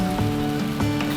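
Rain falling in Vienna on a cool morning after a long heat spell, a steady close patter of drops on surfaces with a few sharper splashes throughout.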